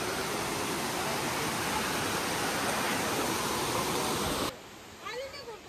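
Water pouring off the heights of Raigad fort makes a dense, steady roaring rush for about four and a half seconds, then cuts to a much quieter background with faint voice-like sweeps.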